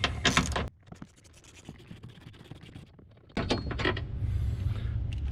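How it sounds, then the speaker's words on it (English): A 13mm bolt comes out of an engine brace on a 2014-2018 Chevy Silverado 1500 4.3L, with bursts of close metallic scraping and ratcheting separated by a quieter stretch of faint clicks. "So we're going to need to remove that bolt."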